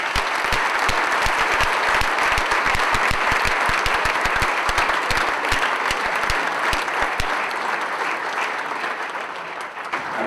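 Audience applause welcoming swim coach Jack Bauerle, 2008 USA Olympic coach, at a Hall of Fame induction: dense, sustained clapping from a large crowd filling the room, steady and loud for about ten seconds before easing slightly at the end.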